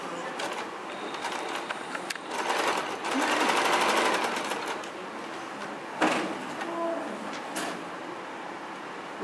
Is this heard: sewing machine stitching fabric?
yes